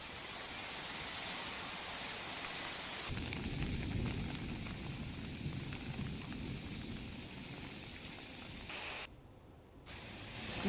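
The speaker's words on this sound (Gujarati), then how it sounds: "જેતપુરમાં પણ ધોધમાર વરસાદ છે" Heavy downpour with gusty winds in Jetpur near Rajkot, a dense, loud, continuous roar of rain that grows heavier after the first few seconds and briefly drops away near the end.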